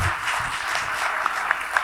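Community meeting audience claps for a speaker in a short, moderately loud burst of applause that holds steady, with a few sharper claps standing out near the end.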